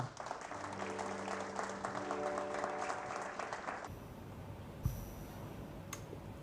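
A congregation applauds at an ordination ceremony, dense clapping with some voices filling the first four seconds, then dropping away to quiet room tone with a single thump.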